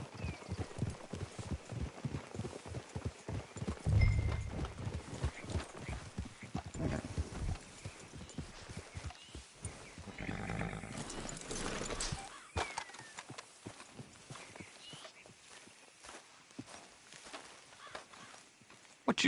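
Horses in Red Dead Redemption 2 clip-clop along at a walking pace, hoofbeats steady and fairly close, with an occasional neigh rising over them; the hooves thin out toward the end.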